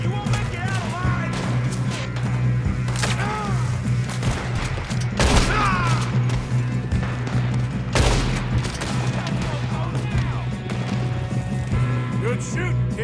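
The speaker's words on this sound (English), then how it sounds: "Good shooting, kid." Rapid gunfire crackles through a Red Dead Redemption 2 shootout, loud and close, with bursts of shots and heavy booms over a steady low hum while voices talk through the fight.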